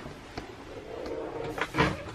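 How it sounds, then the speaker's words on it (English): The door of a 2020 Bailey of Bristol Autograph motorhome is shut from inside, heard as soft rustling and handling followed by a close, muffled thud as it closes. "I'm going to come inside and shut the door."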